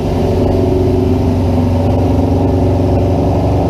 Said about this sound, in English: Yeah, the bike sounds sweet